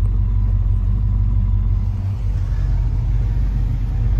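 Inside a car cruising on the road toward a drag racing event in Pennsylvania, a constant, loud, low road and engine rumble holds steady throughout with no other sounds.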